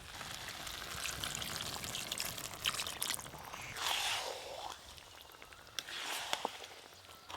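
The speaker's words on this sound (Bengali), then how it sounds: "অল্প একটু জল দেবো।" Water is poured into a pan of chicken kosha with leg pieces and whole onions, giving a short, soft splashing hiss over a steady background sizzle, with a brief louder swell partway through.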